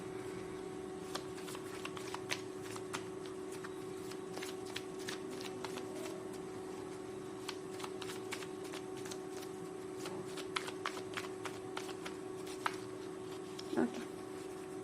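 Oracle cards are shuffled over and over by hand, making a steady series of soft snapping and slapping clicks close to the listener, under a constant low hum, with someone speaking at times.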